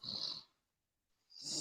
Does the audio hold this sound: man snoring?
yes